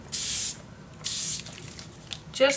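A spray bottle gives two short, close bursts of water onto distress ink in a paper-crafting session, each a steady hiss of about half a second, followed by faint dripping and a brief voice at the end.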